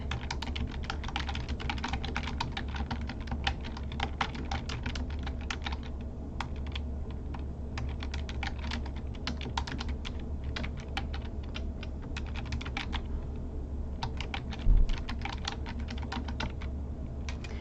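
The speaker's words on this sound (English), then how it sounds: "So if I come in here and I start typing in an email" Steady rapid typing on a computer keyboard, a dense patter of key clicks running throughout with no talking.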